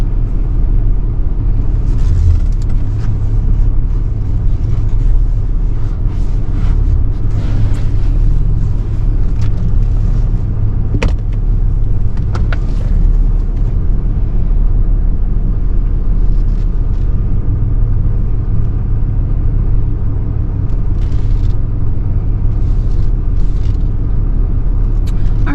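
A car engine idles and rumbles low and steady close by for a long stretch while backing onto a tow dolly in neutral, with faint clanks and knocks over the drone.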